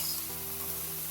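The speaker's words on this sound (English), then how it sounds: "I'm going to saute them over here. Adding some handful of cashews because it's not soaked," Cashews and almonds sautéing in a pan for a creamy vegan wrap filling give a steady, close sizzle that carries on without a break through the short moment.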